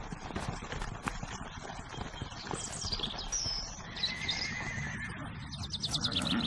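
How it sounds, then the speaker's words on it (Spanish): Dülmen wild horses graze in woodland, and one gives a faint whinny amid steady rustling and background noise, with small birds chirping now and then. "los caballos dulmen pastan en las zonas boscosas"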